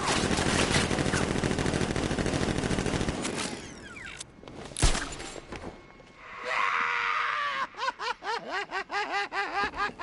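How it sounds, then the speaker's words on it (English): Gunfire in Batman: Arkham Knight on PS4: a dense, loud stretch of rapid automatic shots that thins out midway, followed by other swooping game effects. "Open fire! Shoot everything!"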